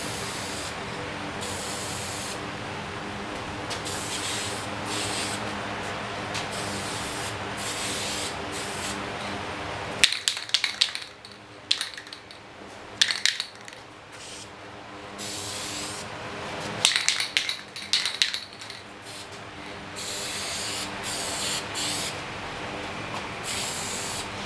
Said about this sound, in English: ready to start spraying the other mirror, and then we can get the clear coat